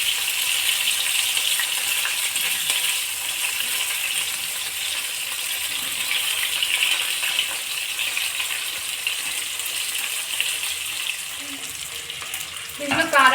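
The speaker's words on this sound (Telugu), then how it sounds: "ఇవి కొంచెం గట్టిగా అయ్యేంత వరకు ఫ్రై చేసుకోండి" Fish frying in hot oil gives a steady, dense sizzle that holds evenly throughout, with a brief clatter near the end as the pieces are stirred or moved.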